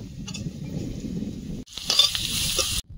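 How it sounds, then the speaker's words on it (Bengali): Potatoes sizzle in hot oil with a steady hiss, then a brief stirring clatter and a louder burst of frying before it cuts off. "আলুটা সুন্দর রং ধরে ভাজা হয়েছে"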